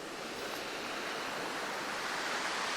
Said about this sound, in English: Those waves are beautiful.